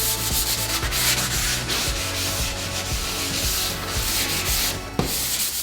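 A hand rubs back and forth over an old wooden furniture surface along the grain, producing a close, rhythmic scratchy sanding sound in repeated strokes with no speech.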